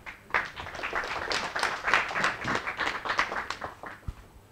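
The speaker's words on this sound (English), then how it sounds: "So a round of applause for Mike." Audience applause for Mike Bradshaw at the end of a talk, a dense run of claps from a modest crowd lasting several seconds before fading out.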